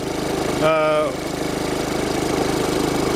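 A car engine idles steadily just after starting on a tested battery, a close, even rumble running throughout with a brief tonal burst near the start.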